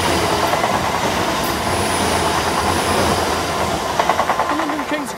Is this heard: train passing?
yes